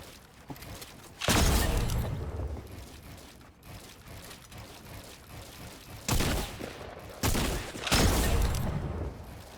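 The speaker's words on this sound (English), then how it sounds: "so we're gonna drop down and shoot him." Gunfire in a competitive shooting game as the player drops down on a spawning opponent: a few loud bursts of shots with quieter game noise between them.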